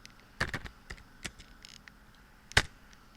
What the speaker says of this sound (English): You type, and then you press the enter key on your keyboard.